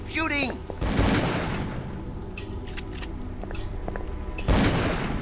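Gunfire in a dark horror video game, several loud booming shots in quick succession with echoing tails and a burst of sound near the end, with a voice heard at the start.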